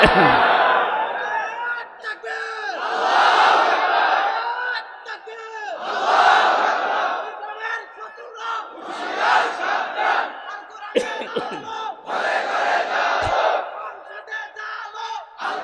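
A large crowd at a Bangladeshi Islamic waz sermon gathering in Tangail roars a takbir chant in response, several loud rhythmic collective shouts rising and falling across the clip.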